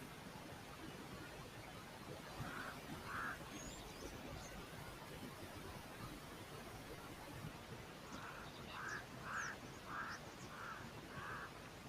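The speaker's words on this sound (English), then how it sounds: "There's also quite a lot of Egyptian geese" Egyptian geese call at a waterhole: a pair of distant honks early on, then a run of five or six harsher honks later, over a steady outdoor hiss of ambient noise.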